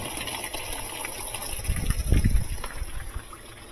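Water rushes into a washing machine through its inlet valve as it is switched on for a leak check, a steady gushing hiss that swells briefly louder midway, with no talk.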